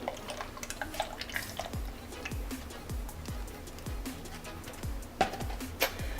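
Chocolate Premier Protein shake pours into a container as a string of soft, repeated glugs and drips, faint and close, with no talk over it.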